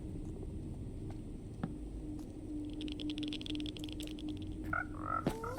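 Frogs in the Minecraft video game, faint croaks and short chirps over a steady low ambient hum, with a couple of brief sharper game sounds near the end and no talking.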